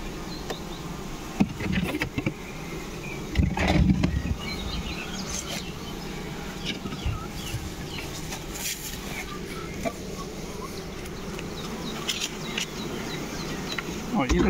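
Honey bees buzz around beehives at an apiary where nucleus colonies are being moved into production hives, a steady close insect drone filling the whole stretch with a few louder bumps and handling knocks.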